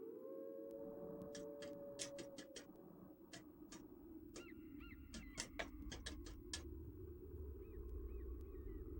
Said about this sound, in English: All I hear is wolves in the background.